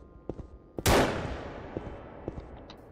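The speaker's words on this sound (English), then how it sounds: "but if the player gets close it should shoot." A turret in a Unity first-person shooter game fires at the player: one loud close gunshot with a long decaying tail, between faint scattered clicks.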